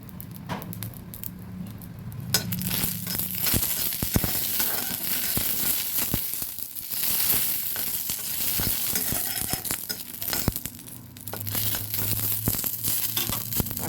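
Two dried red chillies fry in hot oil for garnishing a snake gourd bharta, producing a continuous close crackling sizzle with intermittent scraping and rustling clicks.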